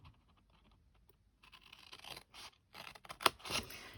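Scissors cut paper along a score line while making a pocket tissue box, a quiet run of close, crisp snips and scratchy slicing strokes that ends in a sharper clip, with no talk.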